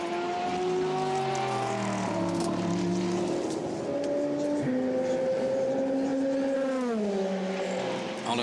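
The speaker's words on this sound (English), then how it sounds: "Ayari's got the car started" A Le Mans prototype race car at the 2014 24 Hours of Le Mans restarts and drives off under its own power, its engine note rising and shifting steadily through gears, loud and continuous with no talk.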